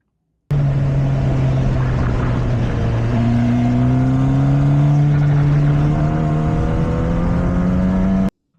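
An onboard race car at the Misano circuit in Italy drones loudly and continuously, its engine pitch rising steadily as it winds through the gears, heard close from the cockpit with no talk.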